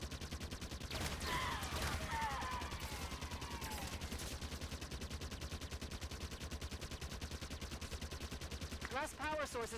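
Carbine fire in Halo 5: Guardians as a room full of grunts is cleared, with a long run of rapid, evenly spaced shots and squeaky creature chatter near the end.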